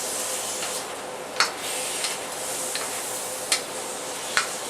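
A pound of shrimp with ginger sizzles in a pan over medium-high heat, giving a steady bright hiss with a few light taps and scrapes as it is stirred, close by and with no talk.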